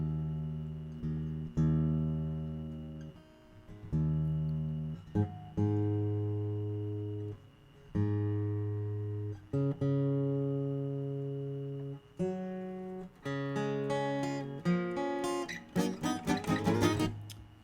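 Instrument being tuned against an electronic tuner, sustained plucked notes ringing and decaying one after another, then quicker strums and rapid note runs near the end, close and fairly quiet, no talk.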